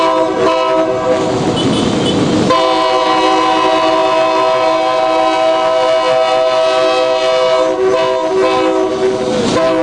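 A train pulls into a Nigerian Railway Corporation terminal at Mandela Freedom Park at night, loud and close, with a sustained horn blast ringing over the rumbling cars after a brief burst of rolling clatter.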